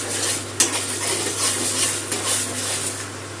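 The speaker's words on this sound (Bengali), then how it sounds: "সমানে নাড়তে হবে, নাহলে নিচে তলায় লেগে যাবে।" Prawn head bharta being stirred in a pan as it dries, scraping strokes and a sharp knock of the utensil over a low, continuous sizzle.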